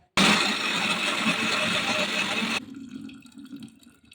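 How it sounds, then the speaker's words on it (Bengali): Water pours steadily into a mixer grinder jar of soaked dal for a Bengali dhokar dalna, a loud continuous splashing rush that stops abruptly, leaving a faint quiet room. "এখানে আমি 1 কাপ মতো জল দিয়ে দিলাম।"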